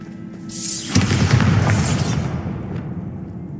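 The Bombarda spell in Hogwarts Legacy goes off in a loud, close blast: a rushing whoosh swells into a deep boom with debris crackle, then a rumbling tail that fades out.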